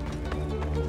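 Horse hooves clip-clop in Assassin's Creed Origins, a steady run of hoof hits over a constant low game-world hum, with a faint voice in the mix.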